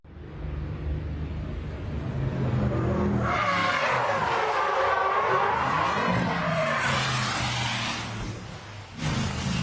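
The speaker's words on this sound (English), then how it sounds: "there's the BMW locking up in a big way and launching itself off the back of Hogarth's car, sideways into the safety car, and then rolls several times" A BMW race car locks its brakes with a loud, drawn-out tire screech, then slams sideways into a safety car and rolls, ending in rough crunching impact noise.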